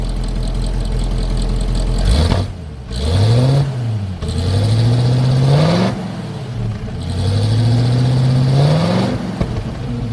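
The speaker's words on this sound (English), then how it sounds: "Can you reach the throttle? Yeah. What would I do? Rev it." A Chevy tow truck engine with an exhaust manifold leak revs up three times in a row, each rise climbing in pitch then dropping back, over a steady rumbling idle; loud and close, no talking.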